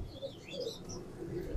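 Pigeons coo softly in low, gentle warbling calls, with faint higher chirps above them, quiet and close against a hushed background.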